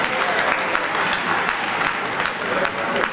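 Guests at a gala evening applaud steadily, a dense, loud wash of clapping that fills the moment without a break.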